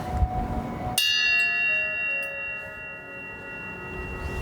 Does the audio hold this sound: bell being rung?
yes